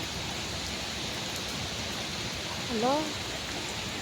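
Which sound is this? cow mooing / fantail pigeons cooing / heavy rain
heavy rain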